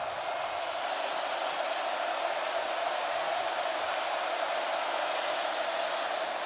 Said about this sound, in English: the first possession for Milton amidst all this crowd noise